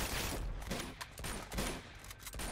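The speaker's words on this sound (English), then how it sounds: "Just keep shooting!" Rapid gunfire in Uncharted 2: Among Thieves, a dense burst of repeated shots that fills the scene with clustered sharp cracks and loud, steady bursts.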